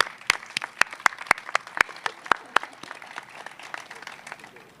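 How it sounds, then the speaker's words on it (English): City employees clap at an outdoor announcement of a bridge replacement project, with sharp scattered hand claps from a small group, close and uneven, fading into lighter clapping. "so we can clap for you and thank you for your work"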